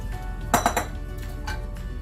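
Plate and utensils clink against each other while black rice is served, a short cluster of bright metallic and ceramic chinks close by, followed by a couple of fainter taps.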